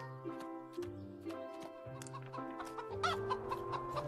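Chickens cluck repeatedly in short, choppy bursts, several birds close together, with a brief louder squawk near the end.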